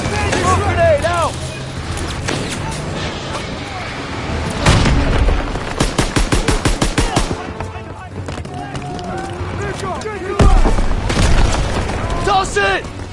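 Grenade blasts and rapid gunfire in Call of Duty WWII, heavy booms near the middle and end with a burst of fast shots between, under shouted in-game voices.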